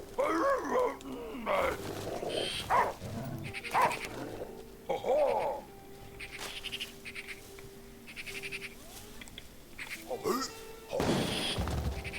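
Dog in the video game The Last Day of June, a series of growling, yapping vocal bursts with rhythmic game sound effects and music, while someone talks intermittently.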